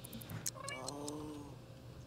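A single drawn-out, whiny meow from a cat in the video game The Sims 3, preceded by a few soft clicks and set against a quiet background.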